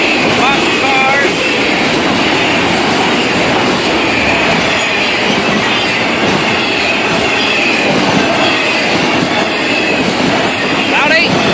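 An FEC freight train of boxcars rolls past close by, with loud continuous rumble, clattering wheels and high metallic squeals throughout.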